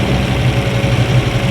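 A BMW E46 with a swapped-in LS V8 runs with stuck lifters, giving a loud, close, steady engine drone with a lumpy low rumble throughout and no talk.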